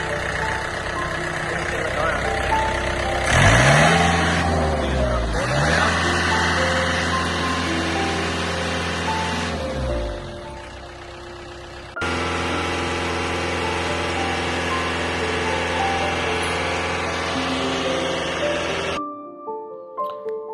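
A truck crane's separate crane engine runs steadily nearby, a loud continuous low drone with a constant hum that barely changes.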